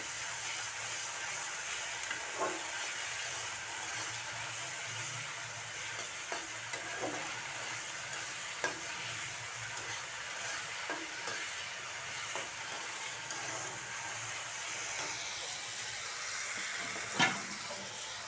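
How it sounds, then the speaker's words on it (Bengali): A tablespoon of garlic sizzles steadily in a pan with spice paste, while a utensil stirs it and scrapes now and then, one scrape louder near the end; quiet and close throughout. "রসুন দিয়ে দিলাম 1 টেবিল চামচ। নাড়াচাড়া করে দিই।"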